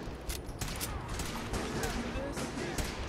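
Rapid gunfire in the Fallout 4 video game, a string of sharp cracks with some distance to them, amid background noise and a speaking voice.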